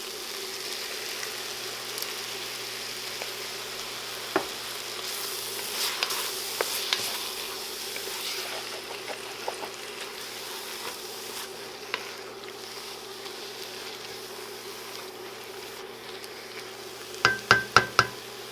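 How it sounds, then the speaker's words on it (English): Organic crushed tomatoes hitting a hot pan for spicy egg noodles with chicken and vegetables, a steady faint sizzle with occasional soft stirring scrapes and a few sharp utensil clicks near the end. "Now I'm going to add about a cup and a half of organic crushed tomatoes."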